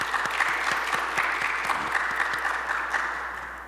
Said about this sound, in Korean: 박수로 한번 감사의 인사를 전할까요?